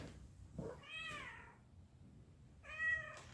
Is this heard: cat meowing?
yes